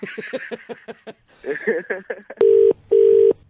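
A person talks briefly, then two long steady electronic ringback tones sound loud and close, separated by a short gap.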